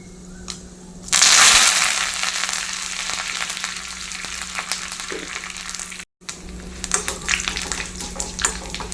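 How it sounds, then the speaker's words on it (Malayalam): Fenugreek seeds and curry leaves hit hot oil with a sudden loud sizzle, then crackling frying continues steadily, with a brief break near the end. "ഉലുവ മൂത്തിട്ടുണ്ട്, ഉലുവ പൊട്ടുന്നുണ്ട്."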